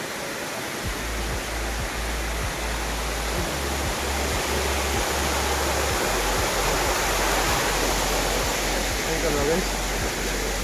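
Steady rushing of flowing stream water, loud and continuous, with a low rumble underneath throughout.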